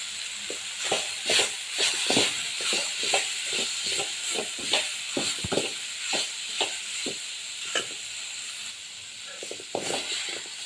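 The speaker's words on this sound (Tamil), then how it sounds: "தேங்காய் போட்டு கிண்டி வச்சுக்கணும்." Grated coconut being stirred into cooked lentil kootu (payaru kootu), a string of soft scraping clicks from a spoon in the pot over a steady steamy hiss, close and without talk.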